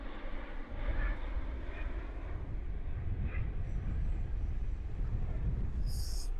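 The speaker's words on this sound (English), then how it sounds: "look at that, we've got a plane coming through as well" Low-flying airplane passing over the River Mersey, a loud continuous rumbling roar filling the whole stretch, steady and broad with wind noise, no talk.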